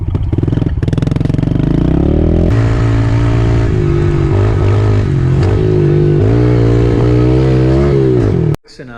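A cold pit bike engine idles and revs on a warm day with a loud, close, buzzing exhaust note. It rises and falls in pitch across several throttle blips, then cuts off abruptly near the end.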